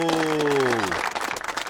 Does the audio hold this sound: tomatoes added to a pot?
no